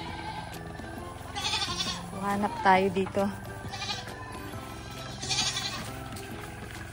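Goats on a calamansi farm bleat in several wavering calls, some loud and close, while a person speaks over them.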